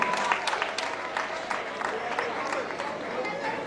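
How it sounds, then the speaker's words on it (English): An audience claps for an arriving guest of honour, a steady crowd patter running the whole stretch with scattered voices and chatter mixed in. "Let's clap for him as he comes forward."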